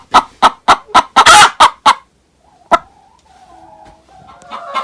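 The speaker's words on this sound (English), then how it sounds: "I'm here in the chicken house, they're laying eggs, they're gonna cluck, right?" Inside a chicken house where hens are laying, a run of about seven loud, close, sharp clucks comes in quick rhythm. After a pause a quieter drawn-out bird murmur follows, and another call rises at the end.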